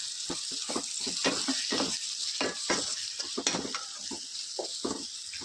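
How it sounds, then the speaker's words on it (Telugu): Chopped country-chicken eggs being stirred into a spring onion curry in a pan, with sizzling under repeated scraping strokes of a spoon and light metallic clinks, close and fairly quiet. "ఇప్పుడు దీన్ని ముక్కలుగా కట్ చేసుకొని ఒకసారి కలుపుకున్నాం అండి"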